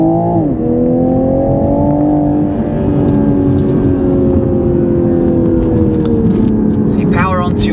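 A 2021 Toyota Supra powers out of a tight bend, its engine note rising steadily in a loud, continuous drone under near, constant road and wind noise.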